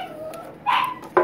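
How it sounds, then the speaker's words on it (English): A dog barks a few times indoors, close and fairly loud, with short sharp bursts coming near the end. "my dog's a little loud."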